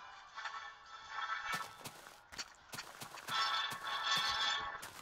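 Minecraft horse sounds: a string of hollow clip-clop hoof steps at uneven intervals, fairly close, with faint whinny-like tones mixed in.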